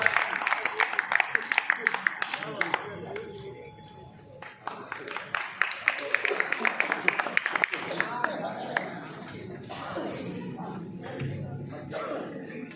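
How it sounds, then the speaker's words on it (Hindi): A crowd at an Urdu poetry recital (mushaira) applauds with a dense, sustained clatter of many hands that swells, dips briefly and carries on, with voices mixed in underneath. "जोरदार तालियों से इस्तकबाल करें आली जनाब साजिद परवाज़ साहब"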